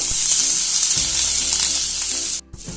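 Jackfruit pieces fry briefly in hot oil, giving a steady, close sizzle with a soft stir and a short dip in the crackle near the end.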